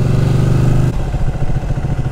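Ducati 1299 Panigale motorcycle with its stock exhaust, a loud, steady close-up engine rumble with throbbing low tones that drops in pitch and settles partway through.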